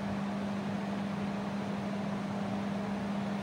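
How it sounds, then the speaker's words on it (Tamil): A mixer grinder coarse-grinding sautéed masala for village-style prawn curry runs with a steady, loud motor hum and whirring noise, unbroken and alone. "மிக்சியில் போட்டு லைட்டாக கோர்ஸ் கிரைண்ட் பண்ணிக்கோங்க"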